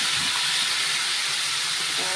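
Paneer tikka masala mixture sizzling in hot oil in a pan over low gas, a steady broadband hiss that holds loud and even throughout with no pauses.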